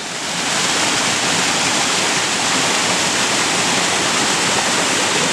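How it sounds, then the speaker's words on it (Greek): Water gushes at the Neromana spring in Ano Kastritsi near Patras, a loud continuous rushing roar close to the microphone that swells in at the start and holds steady with no talking. "πηγή Νερομάνας"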